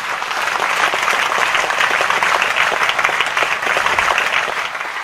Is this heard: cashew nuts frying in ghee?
no